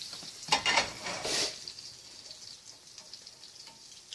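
Butter sauce sizzles softly in a pan over fried fish, with a few scraping stirs and utensil clinks near the start, then a steady faint hiss trailing off.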